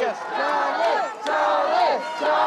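A large crowd cheers and roars along the streets of Glasgow at the Team Scotland athletes' parade, with loud sustained voices rising and falling in waves.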